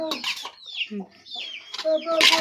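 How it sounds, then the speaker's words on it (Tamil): A hen clucks in short, choppy bursts at close range, with some rustling and a brief higher squawk near the end. "இந்த கோழி இருக்கே இந்த கோழி அம்மாடி அம்மா"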